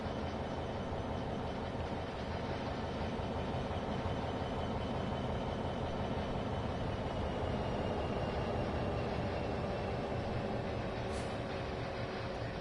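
A train rolls slowly through a rail yard in the Train Sim World 6 video game, giving a steady, continuous rumble and clatter of wheels and wagons that holds at an even level throughout, with no voices.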